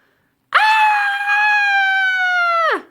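A voice imitates a woman screaming: one loud, sustained high-pitched cry lasting about two seconds that drops sharply in pitch as it cuts off, heard alone after a moment of silence.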